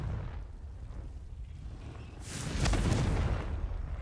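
In Hogwarts Legacy, the Confringo explosion spell detonates as a booming burst that comes in about halfway through, rising out of a low background rumble and then tailing off as a rolling, fading roar.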